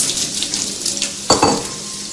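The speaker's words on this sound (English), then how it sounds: "We drain the noodles." Cooked pad thai noodles drain with a brief close splash and sizzle of liquid, then metal pan clatter and settling drips, with no voices.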